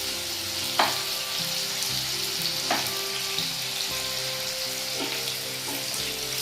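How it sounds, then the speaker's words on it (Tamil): Chicken pieces fry in a pan with a sprig of curry leaves for a chicken kal roast, giving a steady, loud, close sizzle throughout with a few sharp spits and pops, no voices. "இது நல்லா ஃப்ரை ஆகிற வரைக்கும் வெயிட் பண்ணுவோம்."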